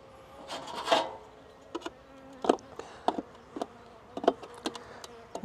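Honey bees at a hive while a beekeeper feeds fondant under plastic, with an intermittent faint buzzing and scattered short rasping, crawling bursts, moderately quiet and without talk.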